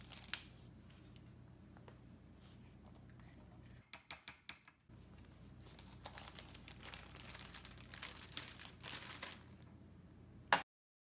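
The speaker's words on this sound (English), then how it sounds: "I'm going to scoop the icing into a baggie and cut off the corner so I can pipe it on." Soft crinkling and rustling of a plastic baggie being handled as icing is scooped in for piping, with a few sharp little clicks midway and a brief snip at the end, close and quiet.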